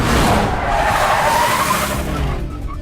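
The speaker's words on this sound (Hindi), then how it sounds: "अबे जोर से ब्रेक मारना" A car brakes hard in a Hindi action film, tires skidding and squealing loudly for nearly three seconds before the screech fades out.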